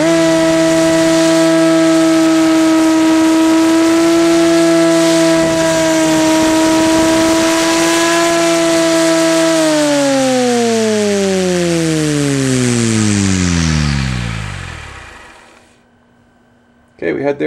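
A 700-size RC helicopter with 102mm blades and Chinese weights whines at a steady high pitch, rotor tone loud and continuous, then spools down in a long falling sweep until it goes nearly silent. A brief sound follows at the very end.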